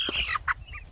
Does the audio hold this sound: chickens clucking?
yes